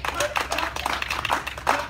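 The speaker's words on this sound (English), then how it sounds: "Clap for him" Scattered clapping from a group at a Ghanaian Independence Day celebration with Kumawood performers, uneven bursts of claps mixed with voices talking over them.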